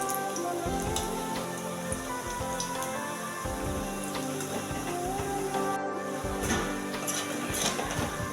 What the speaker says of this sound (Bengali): দুদিকটা ভালো করে ব্রাউন করে ভেজে নেব